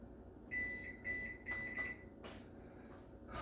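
A kitchen oven switched off after baking a honey glazed ham: a few short, quiet electronic beeps in a row followed by soft clicks and handling.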